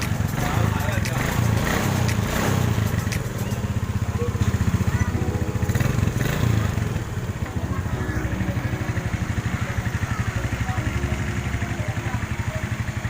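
A Suzuki Smash motorcycle engine, damaged from running without oil, starts and runs loud and close, holding a steady mechanical drone with some rough, uneven bursts early on.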